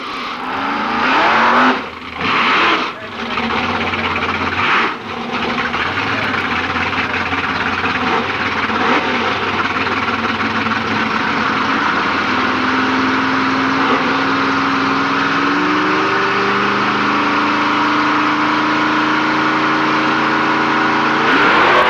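A 1974 Dodge Charger race car with a 440 engine roars and revs continuously, with rising and falling pitch as it accelerates, loud and close throughout.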